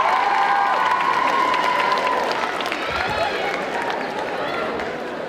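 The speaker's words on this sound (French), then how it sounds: "On applaudit très très fort Shinya." An audience at a cosplay contest at the Necronomi'con 2023 convention claps and cheers steadily for several seconds, mixed with a voice and some background music.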